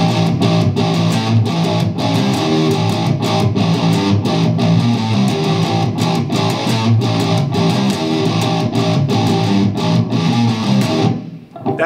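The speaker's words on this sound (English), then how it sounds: "And the turnaround riff, there are single note stabs." Distorted electric guitar plays a turnaround riff with single-note stabs from a metal song, loud and steady with rhythmic punchy hits, ending abruptly near the close.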